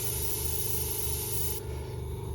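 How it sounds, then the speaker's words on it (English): A continuous airbrush hiss sprays Alclad II chrome paint steadily, with a low pulsing compressor hum underneath; the high spray noise cuts off abruptly near the end. "And then make sure it's spraying, and then we'll go again."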